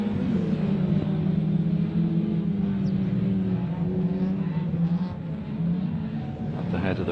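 Rallycross cars, including a Suzuki Swift, a Renault Clio and a Citroen, racing in a BTRDA Clubmans Rallycross Championship round: a loud, sustained roar of engines at full throttle with rising and falling revs.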